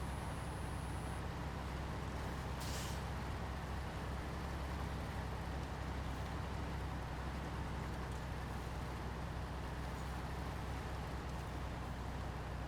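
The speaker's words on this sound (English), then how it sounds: "This is a smooth truck. It doesn't really use much fuel either." Truck driving in the game Fallen Titans, a steady low engine drone and road rumble running continuously throughout, fairly faint with no voices.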